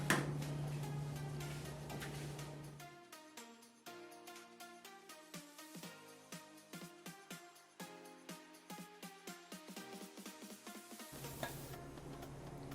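A spoon scrapes and taps repeatedly against a saucepan, scraping out a carrot-cake sweet, producing an irregular series of close metallic clinks and scrapes over soft background music, with no talking.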